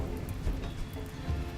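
Rain falling in the colony game Rimworld, a steady soft patter with a low rumbling wash underneath, continuous and fairly quiet with no voices.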